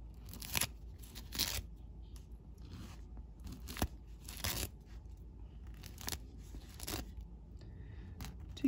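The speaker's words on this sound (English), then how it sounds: "I'm just snagging it a little bit with my scissors" Scissors snag and tear embroidery stabilizer off fabric during a seashell machine embroidery appliqué on a Janome 550E, heard as quiet, intermittent crisp snips and tearing crunches spaced irregularly, close and alone.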